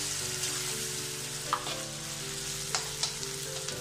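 Egg frying in a pan for egg noodles, a steady close sizzle with a few brief clinks and stirring scrapes, no speech.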